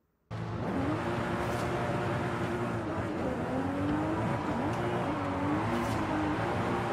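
Car engine accelerating in Forza Horizon 5, played on an Xbox Series X with a Thrustmaster T300 RS wheel, starting abruptly and then droning loudly with rising and falling revs as gears shift.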